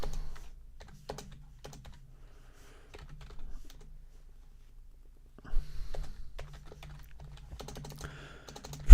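Bursts of typing on a computer keyboard, clicky keystrokes arriving in short clusters separated by quiet pauses, then a denser run of keys toward the end, close and fairly clear.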